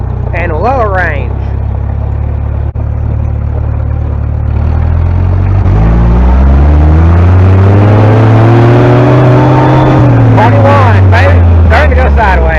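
Vintage Jeep crawling in low range, its engine droning loud and close, then revving up with a rising, climbing whine before easing off, while people talk briefly at the start and end.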